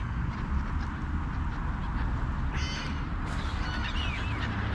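Crows perched on a terrace caw a couple of times against a steady outdoor background hum, the calls brief and moderately distant.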